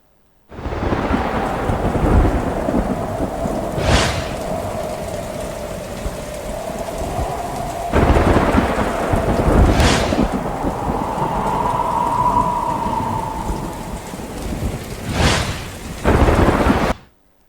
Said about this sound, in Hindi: मौसलाधार बारिश ने नशीबी इलाकों को डुबो दिया।